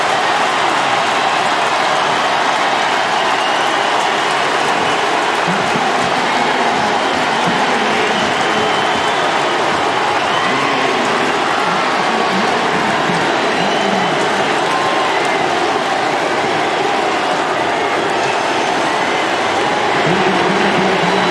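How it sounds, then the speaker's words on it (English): A huge stadium crowd roars at a college football game between Old Dominion and Virginia Tech at S.B. Ballard Stadium, a loud, sustained wall of cheering that holds steady throughout with no talk over it. "The largest crowd in SB Ballard Stadium in Old Dominion football history has unleashed its loudest roar yet."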